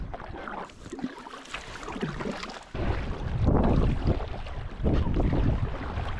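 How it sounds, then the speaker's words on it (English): Gusting wind rumbles across a mountain lake around an inflatable canoe being paddled, a loud, uneven roar with soft water and hull noises, growing stronger in the second half. "I've been fighting the wind here for about an hour now, paddling towards the dam."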